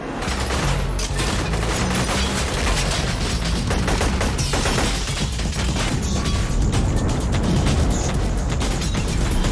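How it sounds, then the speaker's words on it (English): Gunfire in a scene from The Matrix (1999) film: dense, continuous volleys of shots and impacts layered with booms and loud action-scene din, unbroken throughout. "He's about to start shooting guns blazing."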